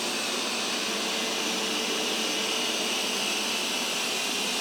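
A Roborock S8 MaxV Ultra robot vacuum runs on max suction over carpet, a steady loud airy whoosh with a constant high whine, unbroken throughout and alone.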